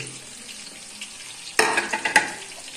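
Egg pakora fries in hot oil, a soft steady hiss that bursts into louder crackling sizzle as pieces drop in one by one, with a couple of sharp spatters close by.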